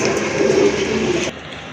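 Domestic pigeons kept for sale, a pair with a chick, coo in low, throaty tones close by for a brief moment before the sound drops away.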